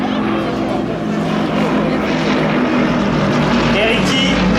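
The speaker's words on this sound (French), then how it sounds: "Et dans le dernier, l'avion vert, c'est Ricky" Propeller aerobatic planes of the Patrulla Yako team fly overhead at the Biscarrosse air show, a steady loud engine drone throughout with a French commentator talking over it.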